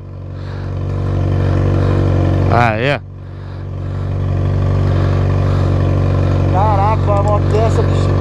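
A Yamaha XJ6 motorcycle idles with a steady low engine drone that builds and stays loud while people talk over it.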